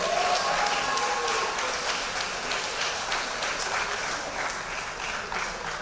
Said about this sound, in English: we want to give you another round of applause, acknowledgement, and an award just to commemorate the wins